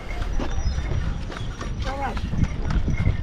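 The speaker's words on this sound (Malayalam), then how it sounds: "കുതിര" Horse hooves clip-clop in a quick rhythm nearby in Gulmarg, Kashmir, with voices talking over them and some background murmur.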